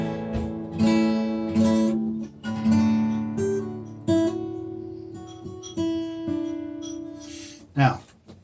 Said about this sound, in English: An A sounds like this.